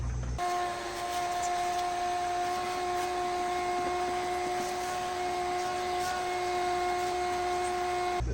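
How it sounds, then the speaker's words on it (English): A shop vac runs steadily throughout, its constant whining roar close and even as it sucks mouse nest debris out of a McCulloch outboard motor. "I'll go ahead and use the shop vac to get the rest of the mouse nest remnants out of here."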